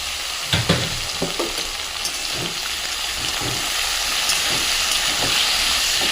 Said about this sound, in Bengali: বরবটিগুলো ভালো করে তেলে একটু পাঁচ করে নিয়ে নেড়ে নিচ্ছি